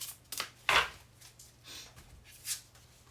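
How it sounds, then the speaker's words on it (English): Tarot cards being shuffled during a love reading: a few separate riffles and brushes of card stock, the loudest burst near the middle, with a quiet hum beneath and no talking. "let's do one more shuffle"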